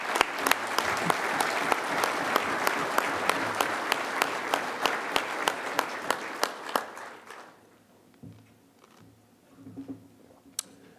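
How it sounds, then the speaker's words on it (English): A conference roomful of people applauds steadily for several seconds, then the clapping fades to scattered claps and quiet room noise. "please join me in a round of applause for the"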